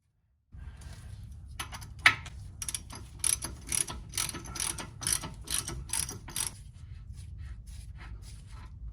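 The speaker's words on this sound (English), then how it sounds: "I'm gonna finish removing it like I said with the ratchet" A ratchet spinning out the rear differential fill plug on a 2004-2007 Subaru WRX STI, a fast run of close, crisp clicks in bursts over a steady low hum.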